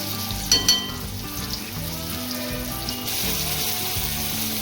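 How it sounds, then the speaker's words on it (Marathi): Chopped tomatoes frying with onion in a pan for mutton curry, a steady close sizzle with a couple of brief knocks near the start and soft stirring throughout. "आता टॅमॅटो सगळं चांगला भाजून घ्यायचं कांद्यात."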